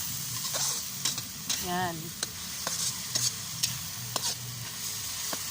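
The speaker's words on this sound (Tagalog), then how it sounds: "lulutuin lang ni nanay ng mabuti yung alamang para matanggalan ng lansa" Alamang, tiny shrimp, stir-fried in a pan, giving a soft steady sizzle broken by sharp intermittent clicks and scrapes of the stirring utensil, with a brief spoken word.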